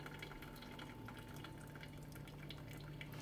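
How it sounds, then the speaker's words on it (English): Cooking water drains from quinoa in a steaming basket of a ThermoCook TC PRO M 2.0, a soft, continuous trickle and patter of dripping liquid, faint and close. "So we just want to drain off as much water as we can."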